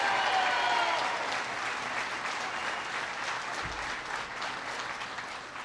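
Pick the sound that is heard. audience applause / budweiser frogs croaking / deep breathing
audience applause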